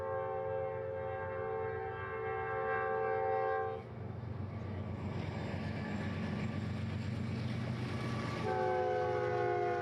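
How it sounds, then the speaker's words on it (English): A Norfolk Southern freight train hauled by GE locomotives passes, sounding a loud sustained multi-tone horn, then rumbling and rattling its wagons along the main line before the horn blows again. "This train didn't even take 2 minutes to go by."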